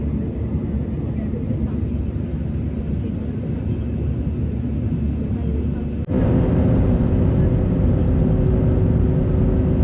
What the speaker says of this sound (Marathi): मित्रांनो तो विमान एका साईडला टील चालू आहे, म्हणजे वळतंय थोडक्यात विमान